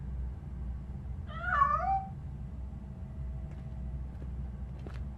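A cat meows once, a short clear wavering cry over a low steady background hum in the video game RoboCop Rogue City, followed by a few faint clicks.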